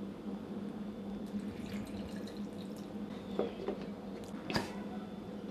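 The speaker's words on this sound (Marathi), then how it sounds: "थोडासा पाणी घालायचं आहे" Water trickles and drips into freshly scooped mango pulp while making aamras, a soft steady wet patter with a few brief splashy drips, close by and moderately quiet, with no talking.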